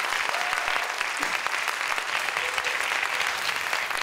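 Sustained audience applause after a student research presentation at the SIYSS 2019 science seminar, dense and even clapping from a large crowd with a few faint voices underneath.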